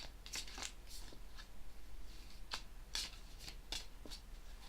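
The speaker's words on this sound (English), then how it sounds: "Okay, so cut the deck." A tarot card deck is shuffled by hand, giving soft close riffles and crisp card snaps at irregular intervals over a quiet background.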